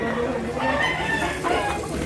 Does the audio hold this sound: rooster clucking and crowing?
yes